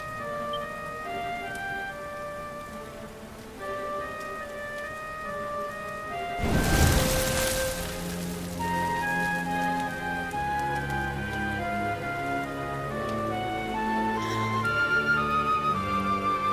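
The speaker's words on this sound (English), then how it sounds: "Looks like the rain's dying down." Steady rain patters in the video game Dragon Quest XI beneath soft, tonal game music, with a louder broadband rush of rain for about a second partway through before settling back to a continuous hiss.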